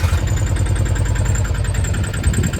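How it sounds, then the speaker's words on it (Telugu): A Piaggio Ape auto rickshaw engine, just self-started, runs close by, a steady low throbbing chug with a rapid pulsing rhythm, loud and continuous with no voices. "చూసారు కదండి ఇంజిన్ స్టార్ట్ అయిందనమాట"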